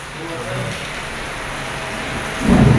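Heavy rain pours steadily in the open near an erupting Taal Volcano, with a deep rumble of thunder swelling loudly at the end; a voice speaks briefly underneath.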